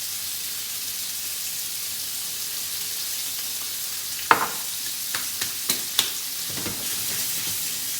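A thin steak fries in a pan with a steady, even sizzle throughout, broken later by a few sharp clicks and taps as it is handled, with no talking.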